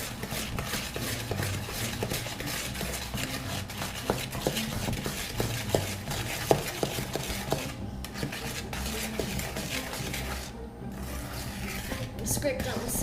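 Eggs being mixed into butterscotch cookie bar batter in a bowl, with steady rhythmic scraping and clinking of a utensil against the bowl, fairly close, continuing throughout with brief pauses.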